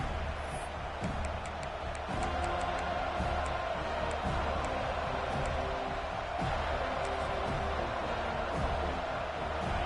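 A steady, dense crowd roar fills a stadium in an American college football video game, Texas at Florida State, with faint clapping and cheering rising briefly, continuous throughout with no distinct calls standing out.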